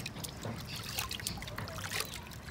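Water trickles and splashes outdoors as it is fetched, faint irregular dribbling and light sloshes against a quiet open-air background.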